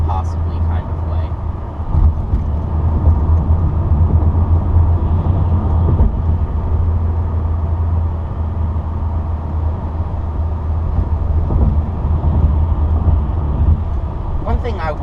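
A 1999 Volkswagen Beetle 2.0 engine labors uphill with a steady low drone and road rumble from inside the cabin, while a person talks over it throughout.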